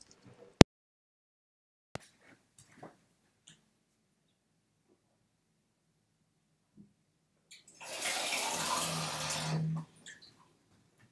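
A tap runs for about two seconds near the end, a close, steady gush of water. Before it, a quiet room holds only a few isolated clicks and knocks.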